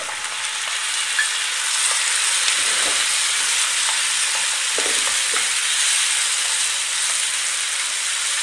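Grated tomato fries loudly in a pan, a dense unbroken sizzle and hiss close up with faint stirring scrapes underneath.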